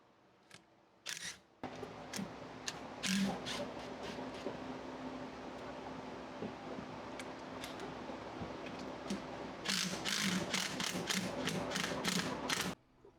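Ratchet working on Ford F250/350 Super Duty steering components as they are taken apart: scattered mechanical clicks and clatter over a faint hum, then a quick, rapid run of sharp ratcheting clicks near the end.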